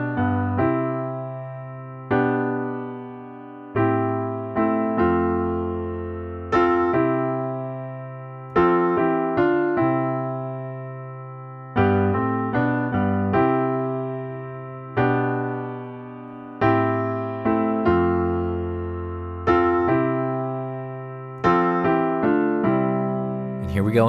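Solo piano plays a melody arrangement of a song, inspired by a 1975 London live performance, with sustained chords and singing lines in a slow, steady rhythm, close and unaccompanied.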